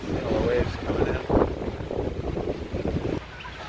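Strong storm wind buffets the microphone in a steady, loud roar on a coast where waves roll in and trees are down, with a voice speaking over it.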